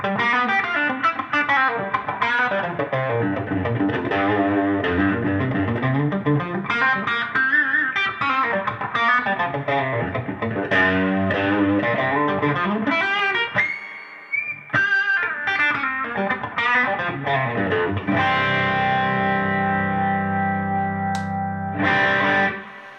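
An overdriven electric guitar plays chords and melodic runs with effects, steady and loud throughout, a brief dip midway before ringing sustained chords.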